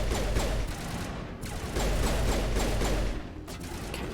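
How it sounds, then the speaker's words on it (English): Video game gunfire in Mass Effect Legendary Edition crackles in repeated volleys of shots over about four seconds, fairly loud, with brief lulls between the bursts and no talking. "Who's shooting at me?"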